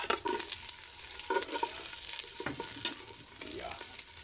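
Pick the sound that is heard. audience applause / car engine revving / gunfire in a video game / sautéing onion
sautéing onion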